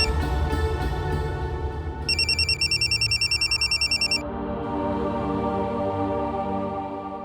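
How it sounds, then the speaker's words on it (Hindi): A telephone rings in a tense crime drama scene, its electronic bell pulsing in a fast run of bursts for about two seconds over a steady musical underscore, then falling silent. "आपका फोन।"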